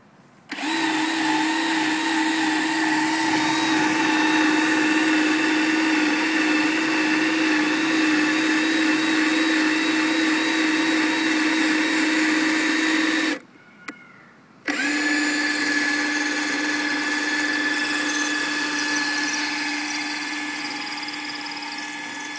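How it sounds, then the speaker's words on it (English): IMG Resistograph wood tester drilling into wood, a loud steady high-pitched motor whine that runs continuously, cuts out briefly partway through, then resumes and slowly fades, close by. "It's going to drill in and give us a reading on the strength of the wood."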